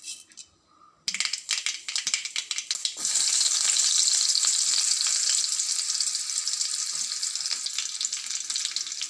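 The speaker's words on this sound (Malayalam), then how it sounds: "എണ്ണ ചൂടായി ഇനി നമുക്ക് കടുക് ഇടാം." Mustard seeds dropped into hot oil for a drumstick leaf thoran, a few clinks and crackles giving way to a loud, steady close sizzle and rapid popping that continues alone.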